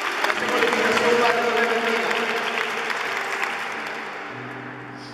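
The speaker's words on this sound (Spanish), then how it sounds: "Yo creo que le doy un fuerte aplauso al Padre" Applause from a church congregation for a visiting priest, a dense wash of clapping that holds steady for several seconds and then gradually thins and fades, with some crowd murmur and voices mixed in.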